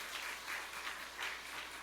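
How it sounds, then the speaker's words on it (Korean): A church congregation at a Sunday afternoon worship service applauds in a soft, even wash of clapping that is steady and somewhat distant throughout. "박수로 격려하겠습니다."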